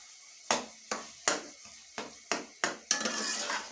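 Minced meat with peas roasting in a pan, heard as seven sharp, evenly spaced scraping clacks of a spatula against the pan, quiet and close, with a soft sizzle toward the end.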